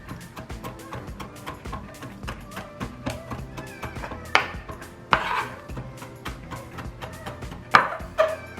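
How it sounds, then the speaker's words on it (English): A rocking knife minces a bunched pile of sliced garlic on a cutting board with fast, even close taps, a few louder thuds standing out from the quick rhythm. "I take a knife that kind of like rolls. You bunch up all the garlic after you sliced it, and you kind of just go like this."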